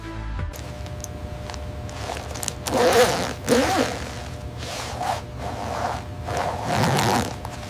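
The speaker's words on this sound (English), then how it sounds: "Every zipper gets tested immediately. Smooth operation, no snags," A zipper on a leather jacket is pulled back and forth several times in a factory, quick rasping runs of teeth, close and clear against a quiet background.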